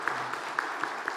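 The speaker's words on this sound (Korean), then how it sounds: "하나님께 영광의 박수 올리겠습니다" A church congregation at a Sunday morning service at the Korea National Defense University church claps together in steady, evenly spaced beats, soft and somewhat distant.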